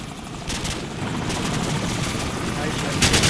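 A helicopter's rotor drones in the Call of Duty 4: Modern Warfare video game, a steady thumping whir with bursts of game gunfire and a player talking over it.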